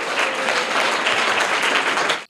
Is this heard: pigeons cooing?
no